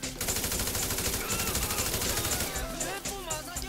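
Rapid automatic gunfire from Michael in the game Grand Theft Auto V, a dense, loud, continuous rattle of shots with brief pauses between bursts, a voice faintly heard underneath.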